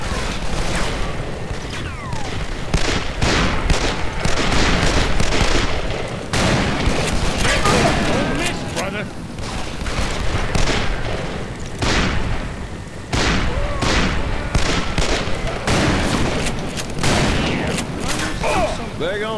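Call of Juarez: Bound in Blood shootout with sustained, dense gunfire: repeated loud shots and volleys mixed with booming impacts, running almost continuously with brief lulls.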